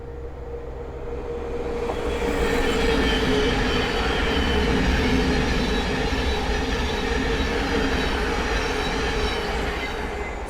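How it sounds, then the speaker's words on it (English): A Thameslink Class 700 train passes nearby at Sandy on the East Coast Main Line, its rumble swelling and then holding steady, with wheel hiss and a faint metallic squeal over the rolling noise. "the next train to pass by is a Thameslink 700 from Peterborough to Horsham"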